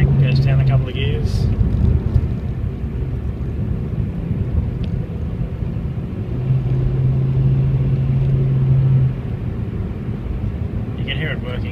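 A 2017 Hyundai Accent Sport with a 1.6 engine accelerates hard and drops down a couple of gears, its steady, loud engine drone rising and settling throughout with no break.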